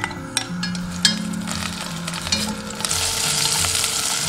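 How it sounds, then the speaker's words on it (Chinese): Chopped aromatics stir-frying in hot cooking oil in a wok, a bright steady sizzle with scraping stirs that grows denser and louder toward the end. "下入料头炒香。"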